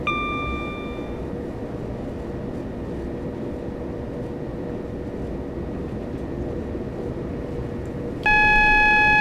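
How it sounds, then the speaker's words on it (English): Automatic warning system alarm sounds in a train cab in Train Simulator 2015 on the Victoria to East Croydon route, a steady tone at the start and again near the end over constant rumbling engine and track noise. "Now got an automatic warning system alarm for 60 miles an hour"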